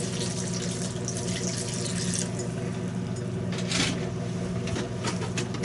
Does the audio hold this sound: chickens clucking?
no